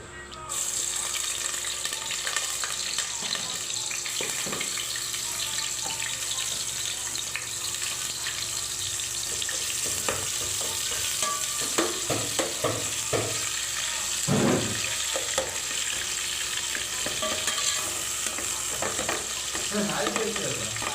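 Onions fry in hot oil for chicken curry, a constant loud sizzling hiss that picks up clattering stirring and scraping toward the end, with no speech.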